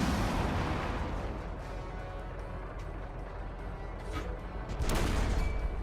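Distant artillery fire rumbles through a World of Tanks battle, a dense, continuous low roar of booms with a heavier burst near the end and no talk over it.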